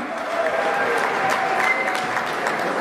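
An audience claps together in a steady, dense burst of applause at an award night, loud and sustained throughout with no pause.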